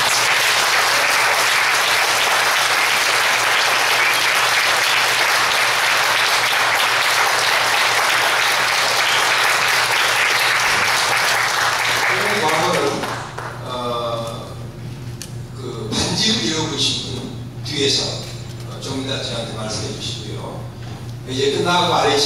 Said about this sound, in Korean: 다시 한번 뜨거운 박수 한번.